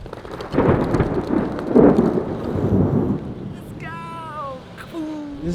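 Rain pours down with deep rumbling thunder rolling through, then a voice speaks as the storm continues in the background.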